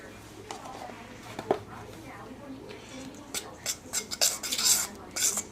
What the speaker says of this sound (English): combine the dry ingredients, get the baking powder all through it